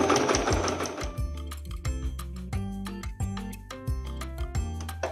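A sewing machine stitches a straight line of smocking: a close, rhythmic mechanical whir with quick ticking and clicking, a brief start-up and then steady running.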